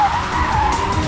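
A getaway car speeds off with tires skidding in a police chase scene from a TV crime drama; a loud, sustained tire squeal rides over engine roar for the whole moment, with no talking.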